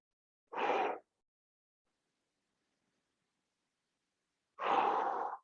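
Two deep, slow exhales during a hip stretch in a core workout, each about half a second long, separated by several seconds of silence and heard close and clearly.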